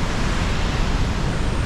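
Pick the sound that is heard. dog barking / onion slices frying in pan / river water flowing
river water flowing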